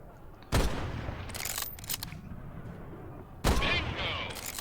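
Rifle shots ring out in the World War II shooter Medal of Honor: Above and Beyond, two loud sharp cracks a few seconds apart over a steady background rumble.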